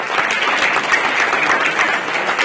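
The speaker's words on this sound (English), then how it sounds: "Another round of applause for him." Sustained audience applause at a health workforce investment forum, a dense, steady wash of many hands clapping at close range with no talk over it.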